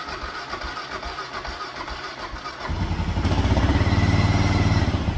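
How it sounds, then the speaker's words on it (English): A rebuilt big bore engine from a 1949 Ford farm find fires up for the first time, cranking chugs giving way to a steady, louder idle close by. "first start in the big bore kit"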